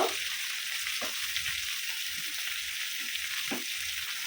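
A steady, close sizzle of ginger, garlic and onion paste frying in hot oil, with a few soft stirring scrapes scattered through.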